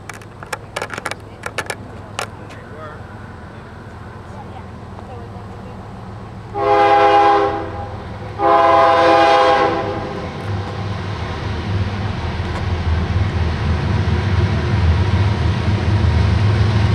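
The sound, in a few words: passenger train passing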